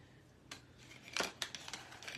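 Scissors trimming garland string after a knot is tied, several quick faint snips close by, with a louder cluster of cuts in the middle.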